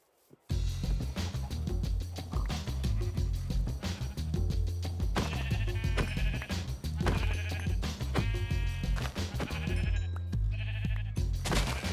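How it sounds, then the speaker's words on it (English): Sheep bleating in the GTNH modded Minecraft game, a long run of repeated nasal bleats one after another, loud and close, with no speech over them. "Next up would be killing sheep for wool"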